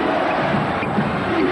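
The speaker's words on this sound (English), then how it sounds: "Crowd chanting defense now." Arena crowd at the 1983 NBA Western Conference Finals Game 6, Lakers at Spurs in San Antonio, chanting defense as a loud, continuous roar with no clear breaks.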